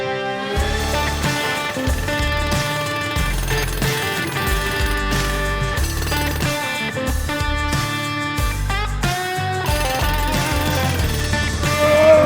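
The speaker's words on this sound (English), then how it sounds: "that jackhammer is a lot of fun to use" A jackhammer pounds away at an old concrete porch in a loud, rapid, continuous hammering burst, close and dominant, with chunks of broken material clattering.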